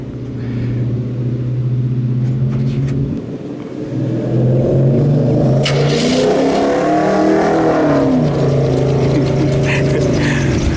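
A 1960 Chevrolet Impala Bubble Top engine cranks and fires, then revs loudly through a rising and falling exhaust roar, with another car's loud exhaust rumbling nearby.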